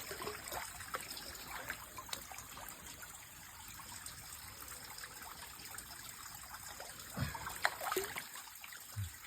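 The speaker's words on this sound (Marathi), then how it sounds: "हे बघा पाणी तुम्हाला सुरुवात झाली." Water starts trickling through mud work in Konkan, a faint, close, uneven dribble with soft splashes and scattered small knocks, and no talk over it.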